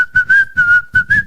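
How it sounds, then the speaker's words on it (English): A person whistles a steady, clear tone in about five short bursts, close and loud, with no talking. "I can whistle again"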